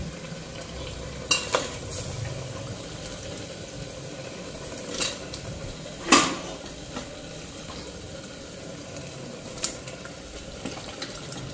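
Chicken liver with onion and spices cooking in a pan, a steady soft sizzle and bubbling with occasional scrapes and clinks of stirring, close and moderately loud, no talking.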